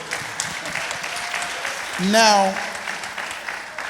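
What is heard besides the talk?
audience applause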